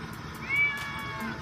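A single cat meow rising and falling, fairly faint against a steady background hum.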